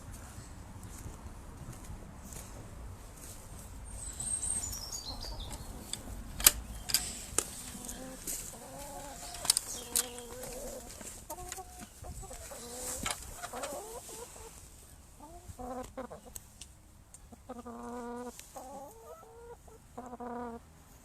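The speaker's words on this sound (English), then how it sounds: "So I'll just show you the chickens, who all have names." Several chickens cluck and bawk close by, with rustling and scattered sharp clicks; a faint crow or squawk rises among the steady clucking.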